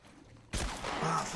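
Assault rifle fire in The Last of Us: after half a second of quiet, a loud, sharp burst of gunfire breaks out and rolls on as a sustained, dense volley to the end.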